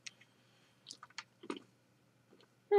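Close, dry chewing of dark chocolate-covered cashews: a handful of soft crunchy bites and squishy mouth sounds scattered over a quiet background, ending in a sudden louder noise.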